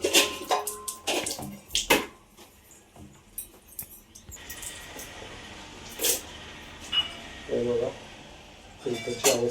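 Water drains out of a household water filter while its cartridge is being cleaned. Intermittent trickles, splashes and drips stop and start, with short clattering handling noises and faint voices nearby.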